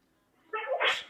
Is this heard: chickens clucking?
no